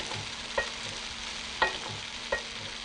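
Leeks, bean sprouts, prawns and noodles stir-fry in a hot pan with a steady soft sizzle, punctuated by three brief clinks of a utensil against the pan.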